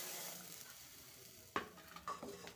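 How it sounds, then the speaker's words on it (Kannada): Cumin seeds roast in a pan for radish chutney with a faint, quiet sizzle, then a few louder clicks and scrapes of stirring near the end. "ಈಗ ಲಾಸ್ಟಿಗೆ ಜೀರಿಗೆ ಹುರ್ಕೊಳ್ತಾ ಇದ್ದೀನಿ."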